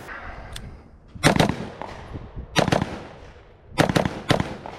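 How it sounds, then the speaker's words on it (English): A Geissele AR-15 rifle fitted with an H2 buffer fires three sharp outdoor shots roughly a second apart, each followed by a short echo, close and loud, with no voices. "And shooting it is so effortless."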